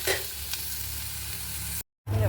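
Onion, crushed ginger and garlic fry in oil in a pan with a steady close sizzle, a brief stir near the start, then a short silence before the sizzling resumes.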